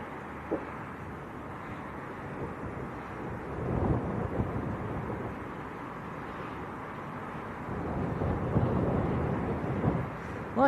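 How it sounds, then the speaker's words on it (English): Strong wind gusting into the high 30s buffets the microphone at Leeds Bradford Airport in a steady low roar, swelling into heavier gusts at a couple of points. "it's very, very windy. The wind's gusting into the high 30s"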